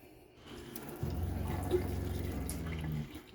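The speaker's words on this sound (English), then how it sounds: "Here's the water pump running." Water pump in a 2021 Forest River Wildwood Lite RV pushing water through the double-basin kitchen sink faucet: a soft hiss that starts after a moment over a low, steady hum, then cuts off near the end.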